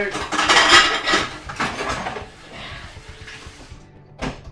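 Dishes and cutlery clink and clatter during dishwashing in a home kitchen, the loudest rattling in the first two seconds, then quieter scattered clinks and a final sharp clank.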